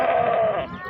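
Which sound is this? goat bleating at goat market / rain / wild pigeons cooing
goat bleating at goat market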